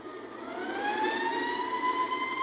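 Police car sirens from a 1975 Spider-Man story record wail steadily with a slowly rising pitch, fairly faint and heard on their own without talk.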